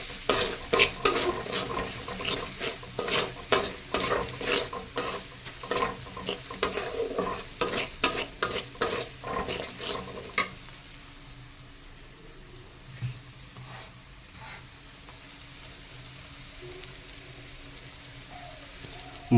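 A spice paste for a chicken and vegetable curry is stir-fried in a pan, with rhythmic scraping strokes over a steady sizzle that stop partway, leaving a quieter simmering hiss.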